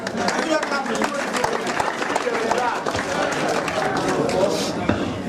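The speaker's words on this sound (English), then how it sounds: "An applause for him, please." Audience applause for a comedy performer taking the stage, continuous clapping from a crowd mixed with chatter and cheering that holds at a steady level throughout.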